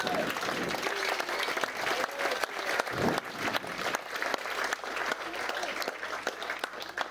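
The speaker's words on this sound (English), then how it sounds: "a round of applause for Bridget, please" Wedding guests at a reception in Preston, Lancashire applaud the bride, a dense, steady burst of clapping from a crowded room that fills the whole stretch and tapers off at the end.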